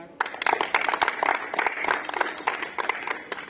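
A group of players clapping their hands together at volleyball practice, a dense, close burst of many overlapping claps that continues steadily throughout.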